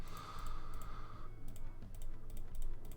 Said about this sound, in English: I'm going to keep talking so I can try and muffle the sound of my very loud mouse